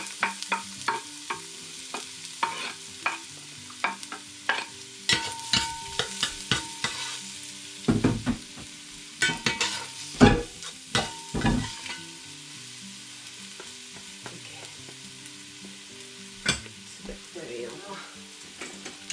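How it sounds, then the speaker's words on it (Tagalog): Garlic frying in hot oil for bamboo shoot adobo, a steady soft sizzle broken by repeated scraping and stirring clatter from a wooden ladle, close up and without speech. "painitin natin yung oil. Then lagay natin yung ating bawang."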